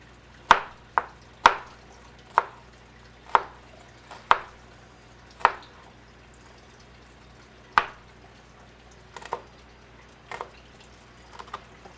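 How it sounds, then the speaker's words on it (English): A knife chops through a half-inch-thick piece of onion on a board, giving a series of about a dozen sharp, evenly spaced cuts that slow and grow uneven toward the end, close and clear against a quiet room. "hold your knife still, and chop it up"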